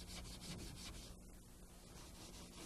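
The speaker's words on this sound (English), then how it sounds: "I'm using the horse hair, and you can see this one has got badly clogged. And you just rub across the grain." A horse hair pad is rubbed back and forth across wood grain to clear excess filler, a faint, steady scratchy rubbing in rhythmic strokes, close by and with no talk.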